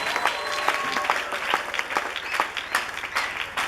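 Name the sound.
congregation applauding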